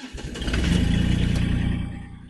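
Iseki TXGS24 compact tractor engine cranking and catching, then settling into a steady, fairly loud mechanical drone close by for a couple of seconds.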